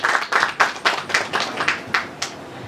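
Scattered audience clapping at a music launch event, about nine distinct loud bursts at an uneven rhythm, like a handful of people applauding together at close range with no talk over it.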